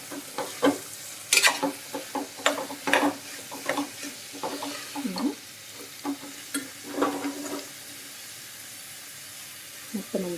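A cabbage and egg curry is stirred as it fries in a pan, scraping strokes coming in irregular bursts over a soft steady sizzle, close by, with a voice speaking intermittently.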